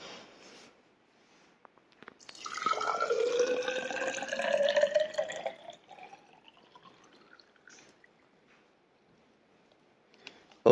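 Water pours into an engine cooling system, a gurgling, trickling fill that swells for a few seconds with a rising pitch as the level climbs, then fades to faint drips in a quiet room.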